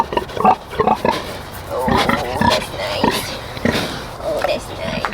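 Close, loud grunts and snorts come from a pregnant Berkshire sow arranging hay on a farm, repeating in irregular bursts while people talk nearby.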